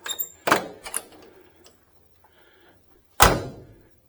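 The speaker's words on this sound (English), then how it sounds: "Just snaps shut. There's no rattles." A 1972 Cutlass car door snapping shut, with two solid, clean thunks about three seconds apart, close up and loud, with a few light clicks in between.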